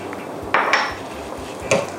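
A metal pan clanks a few times on a stovetop as butter is added to heat, with sharp knocks and a brief clatter against a quiet background.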